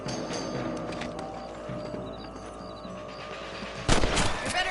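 Gunfire aimed at rabbits in the Red Dead Redemption video game, a sharp loud report standing out near the end over a dense bed of game ambience and music.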